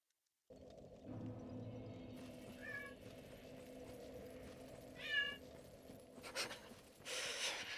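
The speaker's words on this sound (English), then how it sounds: "You might be able to hear my cat in the background." A pet cat meows in the background, giving two short wavering calls about two seconds apart. They are faint beneath a low, steady hum of video game ambience, with sharper clatters near the end.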